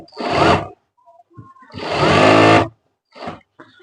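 A sewing machine stitches a ladies' trouser in two bursts of fast, buzzing whir, a short one and then a longer one, with brief quiet gaps between and a faint extra run at the end.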